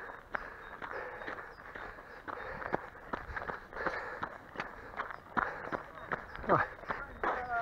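Quick, light running footsteps on a marathon course, a rapid regular rhythm of close thuds, with faint talk underneath.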